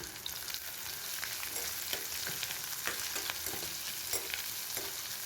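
Small onions sautéing in a pan for spicy mutton chukka, with a steady close sizzle and frequent scraping ladle strokes at an irregular rhythm, no talking.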